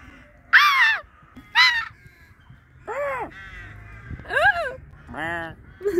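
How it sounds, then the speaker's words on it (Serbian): Crows caw outdoors, about six loud, harsh calls close by, coming singly and in pairs, with people talking between them. "Bude li nas čuli od ovih ptic?"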